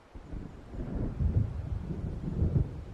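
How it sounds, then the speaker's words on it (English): An approaching thunderstorm in the video game Alan Wake, low muffled thunder rumbles swelling twice over faint wind, distant and fairly quiet. "It seems there's a storm coming."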